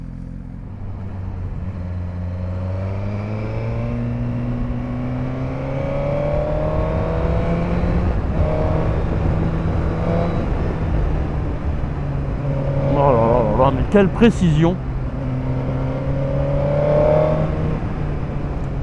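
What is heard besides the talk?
Suzuki GSXR 1000 motorcycle engine revving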